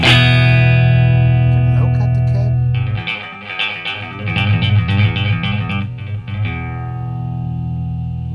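An electric guitar run through a Line 6 POD HD500X amp model, a sustained distorted chord ringing out, then a rhythmic chugging riff with bass thump before the chord rings again, played alone with no talking.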